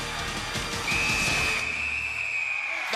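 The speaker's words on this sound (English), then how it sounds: "That whistle, music to Weininger's ears." A referee's whistle ends an event in the 1992 UK Gladiators arena: one long, steady, shrill blast over a loud, constant roar from the crowd.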